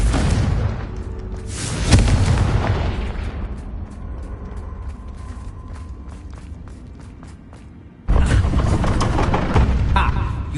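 A Confringo blasting spell goes off in a wizarding video game, a loud broadband boom with rumbling tail and debris rattle, followed by a second sharp blast near the end; a voice casts the spell over the effects.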